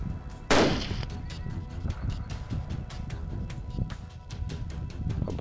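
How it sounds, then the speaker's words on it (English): A single loud rifle shot at a wild boar on a hog hunt, a sharp broadband crack near the start followed by a lingering rumble and scattered outdoor noise. "This boar was shot at 144 yards using a 35mm lens."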